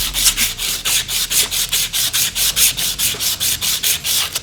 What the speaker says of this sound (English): we're just gonna sand it down a little bit